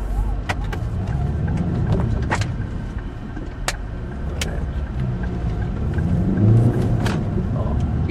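A motorcycle rides around a roundabout in Wrocław, its engine a steady low rumble beneath road and wind noise with a few sharp clicks, continuous throughout.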